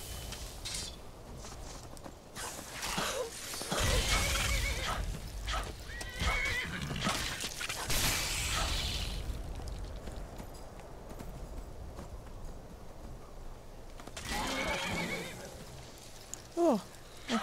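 Horse neighs and whinnies in a video game, with clip-clopping hooves, loud and close in bursts over continuous in-game background sound, with a brief quiet stretch before another neigh near the end.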